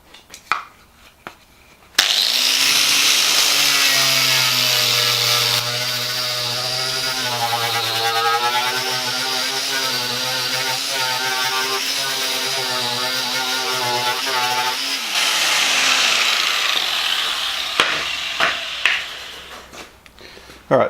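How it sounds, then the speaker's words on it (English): A Scotch-Brite wheel on a power tool grinds rust off the outside of a metal panel, with a loud, sustained buzzing whir that shifts pitch as pressure changes, starting abruptly and cutting off near the end. "On the outside I'm going to use a Scotch-Brite wheel so that it only takes out the material it needs to."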